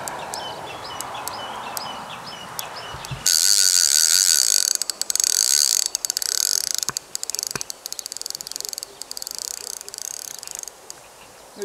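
A fishing reel's drag brake on the Vaal River near Potchefstroom buzzes in a loud, continuous rapid ratchet as line is pulled off, breaking into stuttering clicks, after a few seconds of quieter outdoor ambience with faint chirps.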